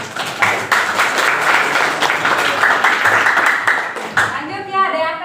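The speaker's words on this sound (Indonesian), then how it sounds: "Oke, tepuk tangan untuk Evina" A classroom of students claps for a classmate with dense, lively applause that stays even for several seconds, then breaks off as voices take over at the end.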